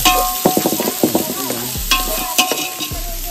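Onions fry in oil for chicken 65, with a close, busy clatter of a spoon stirring and scraping the pan over a continuous sizzle, and no talking.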